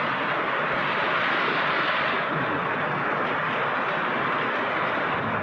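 Heavy rain pours down steadily as a dense, loud, continuous roar close by, without breaks or talking.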